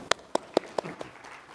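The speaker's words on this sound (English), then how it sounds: "Let's have a big round of applause for them." Five sharp, evenly spaced claps ring out at a professional accountancy seminar, fairly faint and thin rather than a full crowd ovation, the last one softer.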